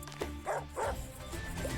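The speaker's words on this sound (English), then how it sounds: "Feed the dog, he is hungry." Short yips and barks from the dog unit in the strategy game Wargroove, two or three quick bursts riding over steady game music.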